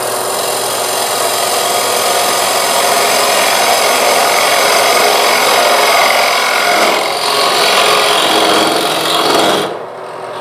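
A skew chisel cuts wood on a spinning lathe while a vessel is being hollowed, giving a loud, steady scraping rasp that continues for about ten seconds and then fades out at the end.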